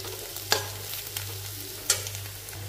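Egg with salt stirs and fries in a pan while chow mein is being made, a low steady sizzle broken by two sharp spatula knocks against the pan.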